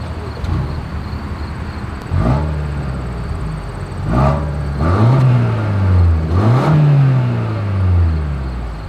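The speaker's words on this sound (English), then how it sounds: "As always, here is that exhaust clip." A 2024 Toyota Grand Highlander's exhaust, heard alone as the engine idles and then revs in several rising and falling throttle blips, growing louder and deeper toward the end.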